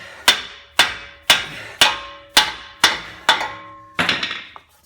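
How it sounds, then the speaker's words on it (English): Seven sharp hammer blows ring out at an even pace, metal on metal, as a CV axle is driven out of a 2006 Toyota Sequoia during wheel bearing work, with a final cluster of quicker strikes. "Now I'm trying to hammer that CV axle out."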